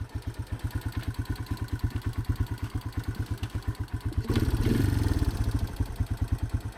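A Yamaha Moto4 200 ATV, Yamaha's first ATV, built on a trike frame, runs close by with a rapid, regular single-cylinder putter, briefly rising in a short rev before settling back to a steady idle, with no voices.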